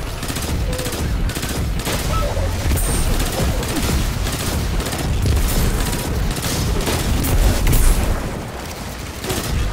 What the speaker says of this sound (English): Ooh, that's a lot of void explosions